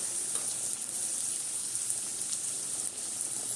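Soybean chunks go into dalia (cracked wheat) cooking in a pan, giving a steady, soft sizzling hiss close by with no voices.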